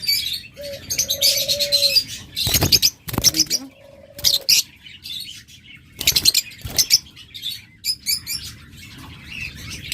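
Pet birds for sale, including lovebirds, budgerigars and cockatiels, chirp and tweet in bright bursts alongside a couple of soft coo-like calls, with loud handling knocks and someone talking in between.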